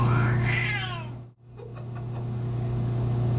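A talkative shelter cat gives a drawn-out meow up close, followed by a quieter second call, set against a steady low electrical hum.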